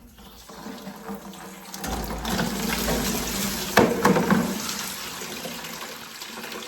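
Water runs steadily from a tap into a bathtub in a water-damaged bathroom being gutted, draining with a continuous close hiss and gurgle that swells and then settles.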